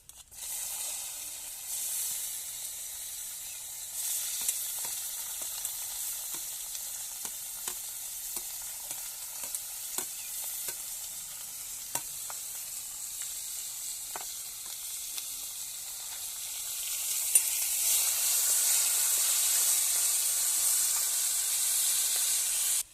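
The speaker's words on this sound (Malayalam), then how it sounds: "നമുക്കിതാ നമ്മുടെ ഉള്ളീനെ അങ്ങോട്ട് ഇട്ട് കൊടുക്കാം" Onions and curry leaves fry in hot oil for a Kerala-style chicken curry, giving a steady close sizzle with occasional stirring clicks that swells into a louder hiss near the end.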